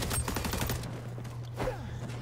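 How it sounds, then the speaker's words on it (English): Gunfire in a video game crackles in rapid bursts at moderate distance over a steady low hum, with a second cluster of shots arriving a moment later. "The shooting's already started."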